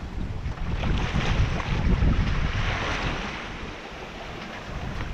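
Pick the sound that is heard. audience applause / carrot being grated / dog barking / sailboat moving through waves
sailboat moving through waves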